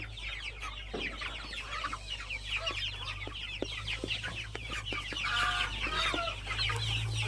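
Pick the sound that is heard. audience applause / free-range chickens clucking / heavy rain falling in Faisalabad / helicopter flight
free-range chickens clucking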